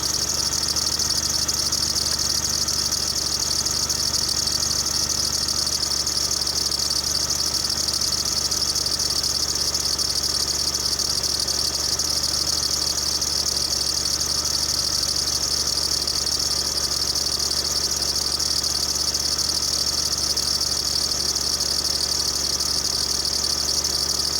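A 2002 Jeep Liberty engine idles steadily with a continuous high-pitched belt squeal riding over the low rumble, constant throughout and heard close with no talking.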